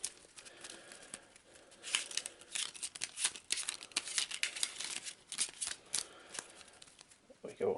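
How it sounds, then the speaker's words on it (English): Small playing cards being shuffled by hand, a crisp papery riffling and crinkling that comes in repeated irregular bursts, close and fairly quiet, with no one talking over it. "I hate shuffling these small cards."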